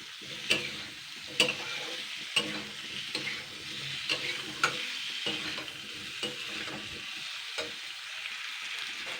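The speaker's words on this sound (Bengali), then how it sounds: "এবার আমি কেটে রাখা শসাটা দিয়ে দিচ্ছি। এটা আমি 2-3 মিনিট কেউ নাড়াচাড়া করে নেবো" Cut cucumber frying with spices in a pan: a continuous close sizzle broken by repeated sharp scrapes and taps of stirring at a steady, uneven rhythm.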